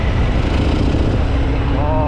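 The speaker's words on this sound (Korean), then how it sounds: "에어 오픈흡기 빨아들이는 소리가 너무 좋아요." Harley-Davidson Fat Bob 114 with an open air intake, heard while riding: a steady, loud engine rumble and intake roar with wind rush throughout, no pauses.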